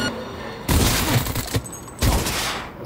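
Gunfire in the Cyberpunk 2077 video game: two loud, dense bursts of shots with booming low end, each lasting under a second, separated by a brief lull.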